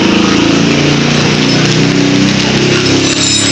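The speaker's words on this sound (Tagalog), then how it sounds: "itong grass cutter na to" A grass cutter engine runs loud and close, a continuous high-pitched buzzing drone with steady harmonics and no pauses.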